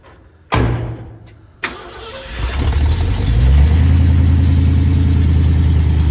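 A 1974 Ford F250 truck engine cranks with two sharp starter bursts, then catches and settles into a loud, steady idle, heard up close.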